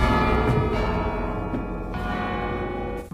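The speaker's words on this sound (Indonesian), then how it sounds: "tiba-tiba ada suara bel" A bell rings out with sustained, ringing tones and several repeated strikes, loud and resonant with no talking.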